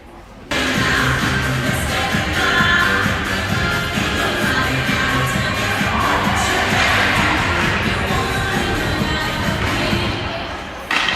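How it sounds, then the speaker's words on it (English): Youth under-14 ringette players give a quick team cheer at the net in an indoor arena, a broad crowd-like roar of voices and rink noise sustained for several seconds. "That was a quick little cheer at the net."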